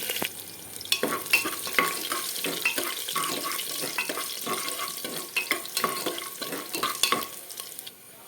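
Ginger and green chillies frying in a mustard-seed tempering for millet upma, with a busy, sizzling texture, stirring scrapes and clinks throughout, moderately close, with no talk.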